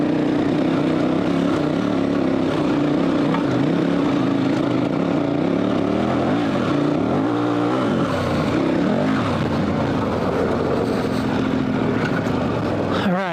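A dual sport adventure motorcycle on Dunlop TrailMax Mission tires runs with a continuous loud engine drone, revving and accelerating with rising and falling pitch mid-run.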